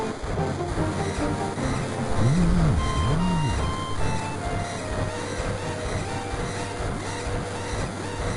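Train ride ambience in the Final Fantasy VII video game: a steady mechanical rumble and rolling hum with a sustained tonal drone, plus a pair of short swooping whistle-like tones early on, continuous and even with no talk.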